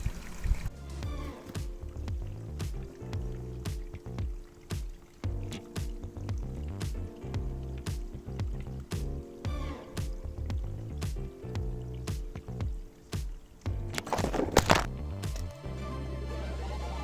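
Water trickles and drips from a source found on a mountain trek at about 1200 metres altitude, a close, steady pattern of small splashes and gurgles running throughout, with a brief louder splash near the end.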